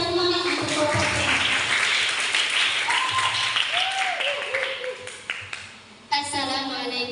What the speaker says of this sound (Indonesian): Ayo kita berikan tepuk yang semangat untuk kelompoknya.